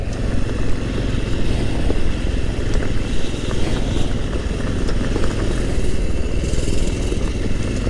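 A Honda Trail 125 motorcycle engine hums low and steady beneath dense rumble and wind-like noise while riding on a trail, faint and continuous with no talking.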